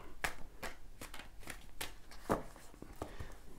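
Tarot cards being shuffled by hand, a quick series of crisp riffling clicks repeating at a steady rhythm, close and fairly soft.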